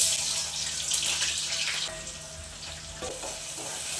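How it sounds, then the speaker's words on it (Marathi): Spices tempering in hot oil for a cabbage curry give off a loud, steady sizzle that hisses on without pause, close by and with no talking. "मी भाजी फोडणी देऊन देते"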